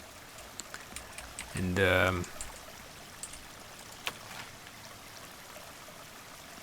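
Continuous soft rushing of water spreading across terrain in the drainage simulation game DrainSim around church walls, a faint steady wash with someone speaking briefly over it.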